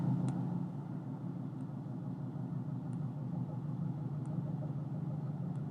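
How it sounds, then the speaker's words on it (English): A Subaru car engine idles with a steady, low rumble, faint and even throughout, with a few soft clicks on top. "Subaru does sound nice though."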